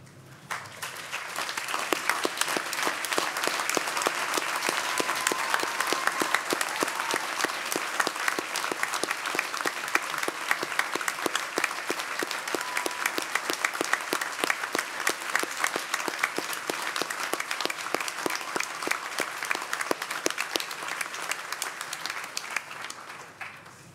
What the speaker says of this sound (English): for all of us to give them a well-deserved round of applause